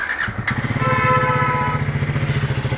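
A motorcycle starts up with a short crank and catches, then settles into a loud, close, steady idle with a rapid even thump and no talking.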